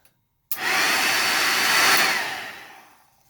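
A Royal 501 Original Dirt Devil vacuum cleaner, running without its bag, switches on abruptly and roars loudly with a high-pitched whine, holding steady for a couple of seconds before starting to wind down.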